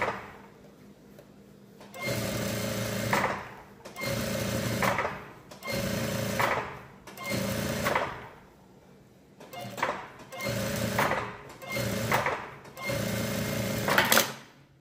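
An overlock serger machine stitches sleeve seams on a gathered dress in repeated whirring bursts of a few seconds each, separated by short pauses, loud and close.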